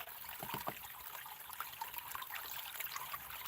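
Water trickles slowly through a gold prospecting sluice, a faint, even running flow with light splashing and dribbling detail, no voices over it.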